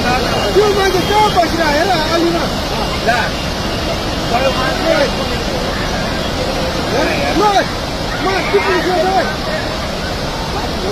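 A flooded river in Nepal rushes in a loud, continuous roar, close and steady, with excited shouting voices over it.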